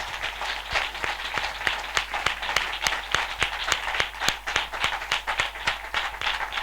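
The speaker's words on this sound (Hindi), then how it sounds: "हम जोरदार ताली से उनका स्वागत करें।" A church congregation claps loudly in welcome at a worship assembly, sharp hand claps falling in a steady, fairly even rhythm over a broad wash of applause.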